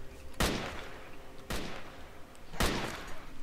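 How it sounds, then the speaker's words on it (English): Three sharp, loud bursts of gunfire in S.T.A.L.K.E.R.: Call of Pripyat with the SGM 2.0 mod, each a broadband crack trailing into a noisy decay, spaced about a second apart with no talking. "Look at this gunfire everywhere."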